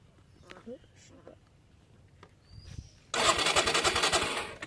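A motorcycle fitted with a remote anti-theft lock cranks on its starter without catching. After a quiet stretch of faint handling noises, a loud, harsh, sustained cranking burst runs to the end.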